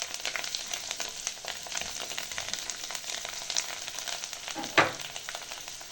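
Dill and coriander are stir-fried in hot oil for Egyptian molokhia, a continuous close sizzle with stirring scrapes and a sharper clatter near the end.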